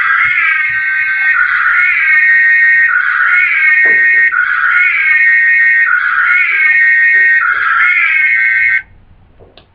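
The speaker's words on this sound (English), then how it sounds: "you may notice that siren on Ghostbusters" A loud siren sound effect like the one in the Ghostbusters film, a harsh harmonic wail rising and falling in five or six quick, evenly spaced cycles, close and alone without talk, before cutting off abruptly near the end.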